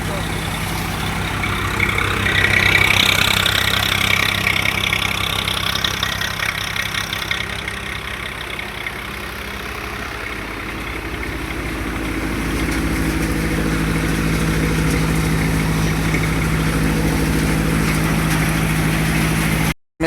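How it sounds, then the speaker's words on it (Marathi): A tractor engine running in a farm field, a steady mid-range rumble and idle-like drone. The engine swells at the start and settles into a constant hum, with a voice talking faintly at times. "पुढं ट्रॅक्टर चालू आहे मस्त."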